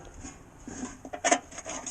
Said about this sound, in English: now you got to scrape your tools, get in these crevices.